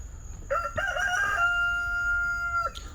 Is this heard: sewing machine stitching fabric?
no